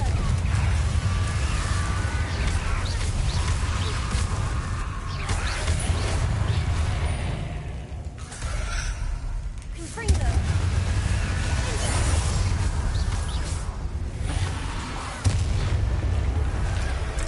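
Confringo fire spells exploding in Hogwarts Legacy, with loud booming blasts over a constant rumbling wash of game noise and sharp impacts standing out near the middle and later on.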